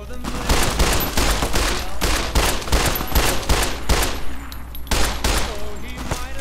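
Assassins firing guns in the Fallout: New Vegas video game, a loud, relentless stream of rapid shots with sharp repeated cracks over a heavy low rumble, close and continuous throughout.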